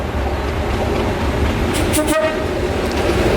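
A diesel train rumbles past close by through a station, steady and loud, with a short horn toot midway through.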